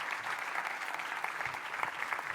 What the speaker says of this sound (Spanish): Un fuerte aplauso para nuestra presidenta aquí.